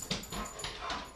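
Chloe, a very high-energy dog, whimpers and yips in excitement in a quick series of short, soft, high-pitched cries, fairly quiet and close.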